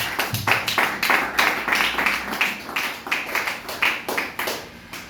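Congregation in a church service clapping in a steady, rhythmic beat, sharp hand claps repeating evenly for several seconds at moderate loudness.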